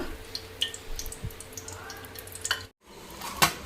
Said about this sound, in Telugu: బజ్జీలన్నీ ఇలా వేయించుకున్నామండి తర్వాత సెకండ్ టైం కూడా వేయించుకుంటున్నాము